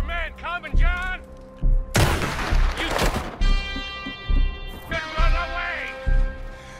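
Gunfire from the Red Dead Redemption 2 ending erupts in a loud cluster of cracking shots and booms amid game music and characters talking, with quieter thuds before and after.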